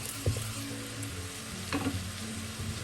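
Ground ginger, garlic and green chili paste frying in hot oil with onions, a low continuous sizzle with occasional stirring knocks and a brief louder spatter, close and without speech.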